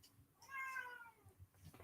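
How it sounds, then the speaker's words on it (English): A cat lets out one soft, drawn-out meow, faint and indoors, with a little low room noise around it. "Cat's here."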